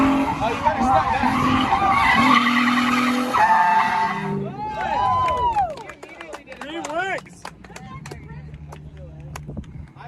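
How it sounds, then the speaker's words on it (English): A drift car run by ECU Masters skids across a competition track, its tires squealing loudly with engine revs sweeping up and down, while people talk and clap over it. "that's Wicknick in the ECU Masters car"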